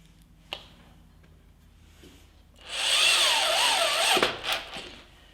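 A power drill drives a screw into wood while building a large covered platform bird feeder. A small click comes first, then one loud, steady whirring burst of nearly two seconds that winds down in a few choppy spurts.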